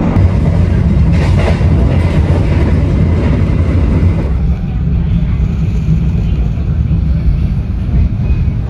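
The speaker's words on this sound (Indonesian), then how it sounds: "kereta api Gumarang telah tiba di stasiun Cirebon, pusat Daop 3 Cirebon" KA Gumarang passenger train rolling along the rails, a loud close rumble from inside the moving carriage with a continuous roar and faint clattering throughout.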